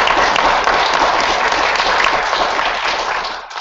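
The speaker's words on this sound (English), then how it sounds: "So let's give a hand to the staff." An audience at a community schools coalition partners meeting applauds the staff, a dense, sustained burst of clapping from a full room that holds steady and then starts to thin out at the end.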